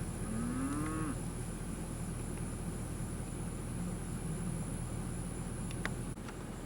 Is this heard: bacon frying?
no